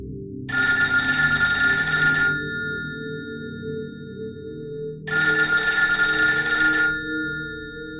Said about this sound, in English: suddenly, the phone rang. A loud and cold ring next to the couch on a side table.